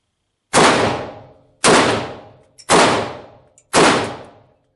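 Four sharp, loud pistol shots from a 22 TCM 9R with a 4-inch barrel ring out about a second apart, each decaying quickly into silence.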